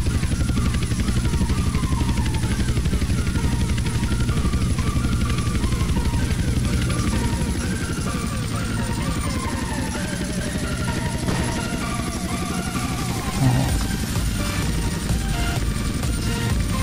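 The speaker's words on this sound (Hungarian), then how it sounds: "Ez a apacs helikopter" Apache helicopter in GTA San Andreas, a steady rotor drone running the full length under game music and effects, loud and continuous, with a talking voice faintly mixed in.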